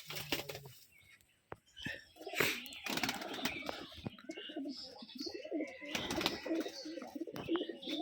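Several pigeons coo in a loft on a Rajshahi pigeon farm in an abandoned building, soft overlapping calls mixed with wing flutters and rustling, moderately close and fairly quiet.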